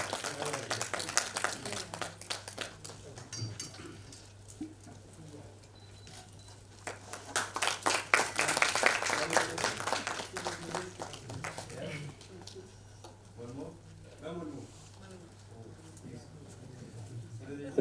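An audience claps at a welcome ceremony in a hall, with dense scattered applause that swells, fades and swells again over a low steady hum while a speaker talks through parts of it.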